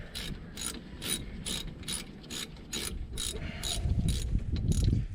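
A ratchet tightens the brake caliper bolts on a 2010 Dodge Caravan, with about a dozen evenly spaced, close clicking strokes over a low rubbing background.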